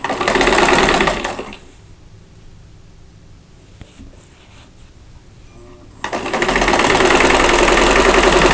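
Sewing machine stitching chain link quilt block pieces together like a four-patch runs in two loud, fast whirring bursts at the start and end, with a quiet stretch of light handling between them.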